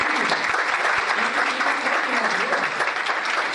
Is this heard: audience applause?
yes